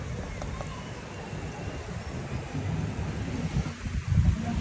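Strong wind blowing during heavy rain outside an apartment window facing a nearby building, a steady loud rushing roar that swells and gusts toward the end.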